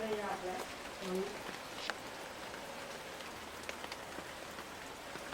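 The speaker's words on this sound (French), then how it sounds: "Eh ben, il pleut." Steady rain patters on a surface, with scattered drops and a faint voice at the start, quiet and continuous throughout.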